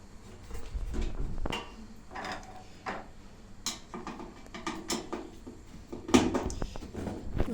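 Screws being removed from the back panel of a Candy built-in oven during a repair, heard as scattered knocks, scrapes and metallic clicks of tool and panel, moderately close, with no talking.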